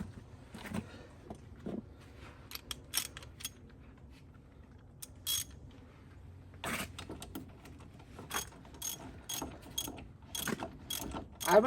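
Ratchet tightening the front strut bolts on a 2010 BMW 535i during a strut and brake job, giving quiet intermittent clicking bursts of pawl action spread across the clip, close up with no talk.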